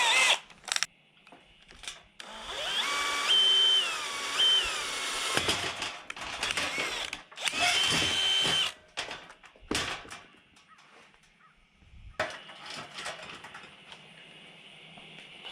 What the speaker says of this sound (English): It says to drill 3 holes with the provided drill bit